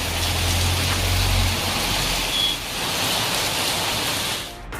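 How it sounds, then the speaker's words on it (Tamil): Steady rain falls in a town in Sivaganga district, a dense, even hiss of drops on surfaces that continues unbroken and fairly loud before cutting off at the end. "மழை பெய்தது"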